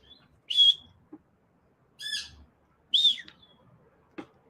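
Several loud, clear whistled calls of a myna bird in short bursts with quiet gaps between, close by in an otherwise still setting.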